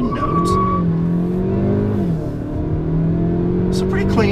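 A 2016 Hyundai Sonata Sport 2.0T pulls away from a standstill, its engine note rising and then dipping and climbing again as it accelerates, loud and steady with a faint cabin hum, no talking over it.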